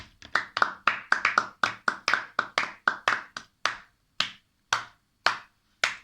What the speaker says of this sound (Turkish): Bana bir alkış lütfen.